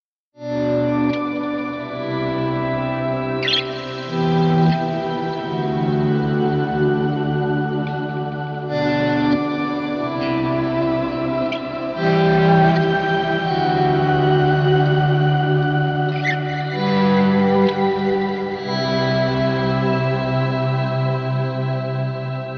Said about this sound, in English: Patch GT-1000 is a clean shimmer type of sound.